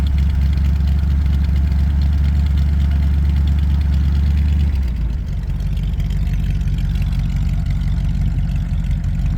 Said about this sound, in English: Give her a little bit of gas to help her warm up a little bit before we take it for a drive